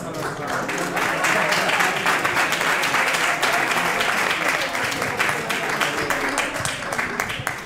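Steady, dense audience applause at an evening poetry-reading tribute, many hands clapping together loudly and continuously, filling the room without any voices standing out.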